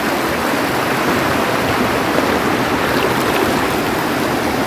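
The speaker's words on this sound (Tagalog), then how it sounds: "Tumawid tayo ng ilog." Water in a shallow, thigh-deep river rushes steadily and loudly, a constant broadband hiss and gurgle right up close as someone wades across, with no voices over it.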